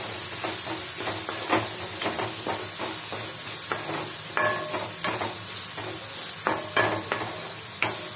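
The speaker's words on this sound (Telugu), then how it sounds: "సిమ్లో పెట్టి వేపుతూ మగ్గుతుంది" Food frying on a low flame in a pan gives a steady sizzle, broken by repeated scraping stir strokes at a fairly even rhythm, close and alone.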